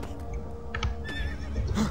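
A horse neighs loudly with a rising whinny while hooves clip-clop at a gallop, in the Lego Lord of the Rings video game, a brief burst standing alone with no talk.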